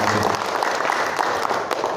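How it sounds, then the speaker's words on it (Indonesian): An audience bursts into applause at a training session for village officials, dense steady clapping filling the room for a couple of seconds. "Silakan tepuk tangan untuk kita semua."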